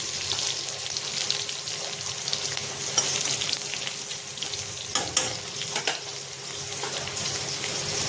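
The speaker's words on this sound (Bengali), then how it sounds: "রসুনটা হালকা ভাজবো, পুরো লাল করবো না।" Garlic and chopped chili fry with mustard while making oll bharta, a mashed elephant-foot yam dish. A constant close, bright sizzle runs throughout, broken by a few light clinks of stirring, with no talking.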